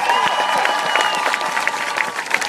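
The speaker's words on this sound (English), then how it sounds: "Give yourselves a round of applause" A crowd at a #NoDAPL protest march in Los Angeles applauds and cheers outdoors, with steady dense clapping throughout and a few voices rising above it.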